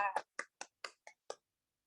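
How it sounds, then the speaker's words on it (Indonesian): A classroom of students clapping for a classmate after her presentation, heard as six sharp, evenly spaced claps in quick unison that stop abruptly into silence. "Beri tepuk tangannya kepada Ladita."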